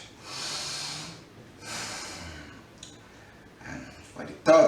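Two long, breathy inhalation-exhalation cycles of deep breathing during a seniors' home exercise routine, close and moderately loud, followed by faint clicks and a brief louder snort-like burst at the end.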